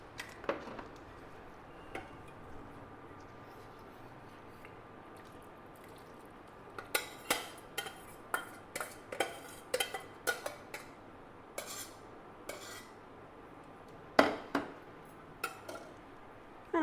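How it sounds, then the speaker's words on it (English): A plum cake mixture of melted sugar and butter is mixed in a bowl, with a quiet start and then a run of quick, uneven spoon clinks and taps against the bowl. "Now what I'm going to do is I'm going to add this mixture."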